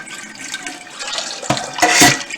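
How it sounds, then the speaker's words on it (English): Tap water runs into a kitchen sink, a steady close splashing rush that grows fuller and louder toward the end, with no voices over it. "Get the water going in the sink here."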